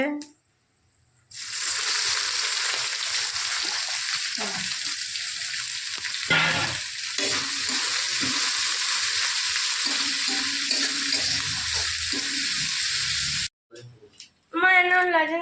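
Onions hitting hot oil with garam masala for a home-style chicken curry, a loud continuous sizzle with occasional stirring scrapes, then a brief pause before the frying resumes.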